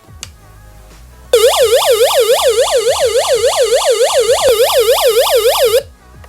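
SOS alarm of an emergency solar hand crank weather radio: a loud, piercing siren that whoops up and down rapidly and evenly for about four and a half seconds, then cuts off abruptly.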